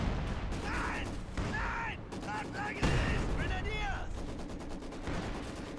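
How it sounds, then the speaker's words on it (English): Rifle grenade fired in the World War II strategy game Company of Heroes 2, amid a busy battlefield of rapid rifle and machine-gun fire, sharp cracks and distant whistling shells, with bursts of shouted voices mixed in. "Let's see if we can fire that rifle grenade into them."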